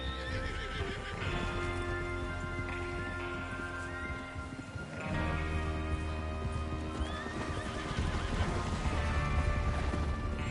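Horses in a Western video game neigh and whinny while hooves clip-clop steadily over a dense, continuous outdoor soundscape, the whinnies rising loud and clear above the hoofbeats.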